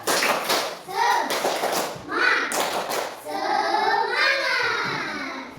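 Schoolchildren in a classroom do the tepuk semangat clapping ice-breaker, with rhythmic bursts of group clapping mixed with children's chanting voices throughout.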